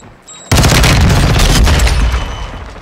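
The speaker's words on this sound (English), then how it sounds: "Throwing flash grenade." A flash grenade going off in Warzone, a sudden loud, broad blast after a quiet half second that hangs as a roaring, crackling wash before slowly fading, no talk.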